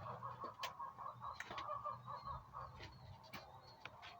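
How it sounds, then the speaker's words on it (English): Birds calling outside a greenhouse, a series of short clucking, fowl-like calls that repeat irregularly over a faint low background, soft and somewhat distant. "I hear birds."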